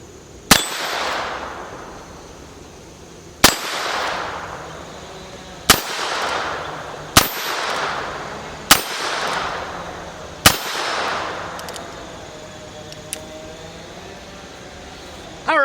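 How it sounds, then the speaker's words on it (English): Six sharp shots from a Heritage Rough Rider .22 Magnum revolver, fired one-handed at steel targets and spaced a few seconds apart, each followed by a ringing metallic ping from the steel and a fading echo outdoors. "Let's go ahead and shoot some steel with the 22 Magnum single-handed."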